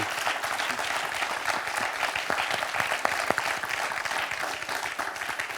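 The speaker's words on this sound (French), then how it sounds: "On peut applaudir Florent." A French TV quiz show studio audience gives a steady, dense round of applause that holds evenly throughout, without speech over it.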